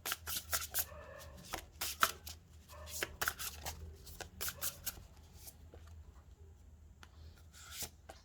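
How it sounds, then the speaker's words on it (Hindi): Tarot cards are shuffled by hand close up, a series of quick riffling bursts and soft slides in an irregular rhythm, separated by short pauses in an otherwise quiet room. "और शफल कर लेते हैं।"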